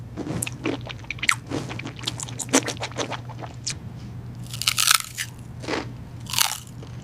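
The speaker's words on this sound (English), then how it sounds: "could you please chew with your mouth closed?" Open-mouthed chewing of crunchy food, close and wet, with a steady run of bites, crunches and smacking squishes over a faint low hum.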